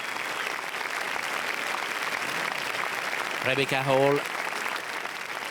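Crowd applauding Steven Spielberg on the red carpet at the Cannes festival, a steady broadband wash of clapping throughout, with a brief voice speaking over it near the end.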